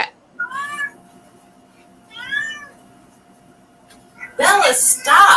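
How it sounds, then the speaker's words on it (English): Female cat in heat meowing, two drawn-out wavering yowls close by, then a brief chirp before people talk over the end. "That's a cat."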